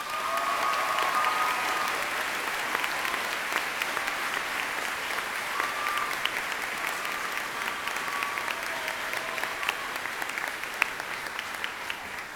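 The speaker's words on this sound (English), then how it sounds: "So please give a round of applause for our two recipients, Catherine Moran and Sean Galvin." A crowd applauds steadily at a 2019 high school graduation ceremony, with sustained, even clapping filling a large space at a fairly distant, soft level.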